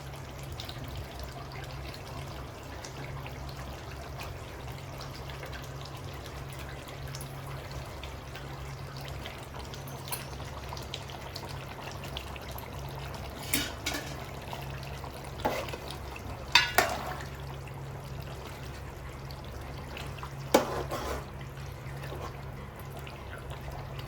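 Farm-raised chicken curry with boiled eggs simmering in a pan over a medium flame gives a low, steady bubbling hiss with a few soft pops and clinks, and no voices.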